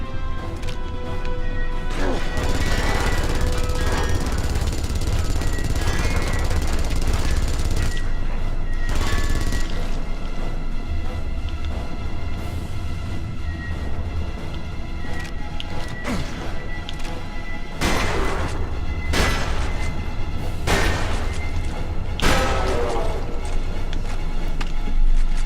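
Repeated shotgun blasts and heavy gunfire in the sci-fi shooter Aliens vs Predator 2010, loud and continuous across a dense, chaotic combat soundscape with crashing impacts.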